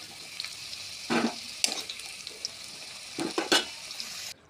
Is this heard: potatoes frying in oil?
yes